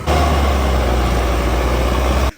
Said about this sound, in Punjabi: ਫਾਈਨਲੀ ਇਹ ਟਰੈਕਟਰ ਕੱਢ ਲਿਆ